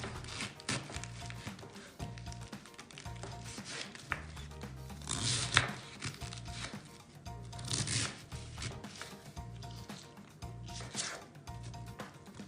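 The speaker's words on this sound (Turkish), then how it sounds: "Direkt çatala gelecek şekilde küçük küçük doğrayacağım." A knife taps and slices repeatedly on a cutting board in quick, uneven bursts, close and fairly quiet, chopping vegetables into small pieces for mixed pickles.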